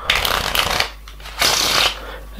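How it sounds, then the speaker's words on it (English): Playing cards shuffled with an in-the-hands riffle shuffle: two crisp, rapid fluttering bursts of cards riffling close up, separated by a short pause, ending with a brief tap. "Now this is called the in the hands riffle shuffle."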